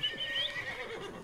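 A horse in the video game Red Dead Redemption 2 neighs, a close, fairly loud whinny that rises and wavers through its short length, with no talking over it.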